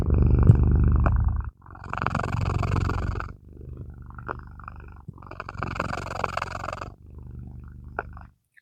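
A tired cat purrs close up in long, steady rumbling cycles, each breath swelling and easing with short quiet gaps between the in and out phases.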